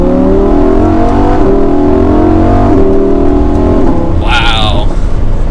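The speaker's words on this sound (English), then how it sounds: "All right, so I'll give it some gas here." A Lamborghini Huracan EVO with a 7-speed dual-clutch gearbox revs hard under acceleration, its loud, close engine tone climbing in pitch through several quick gear changes, ending with a brief higher whine.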